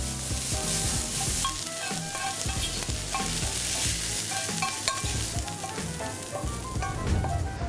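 Chopped garlic and onion sautéing in a pan crackle and sizzle steadily up close, broken by repeated scraping and clattering stirs of a utensil against the pan.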